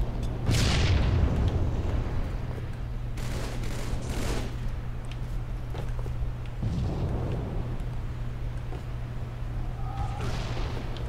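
Cannon shells land and explode in a Halo match: a heavy blast near the start and another a few seconds later, with rumbling aftermath over a steady low hum throughout.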